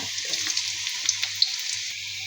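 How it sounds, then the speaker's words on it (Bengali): Chopped onion sizzles in hot oil in a wok-style kadai, a soft continuous hiss broken by a few small crackling pops, fairly faint and close. "এখন দিয়ে দেবো পেঁয়াজ। পেঁয়াজটা ভেজে নিব।"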